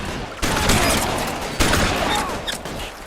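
Gunfire from the L.A. Noire video game, with two loud broadband bursts that each decay into a sustained roar of overlapping shots, heard alone and close with no talk.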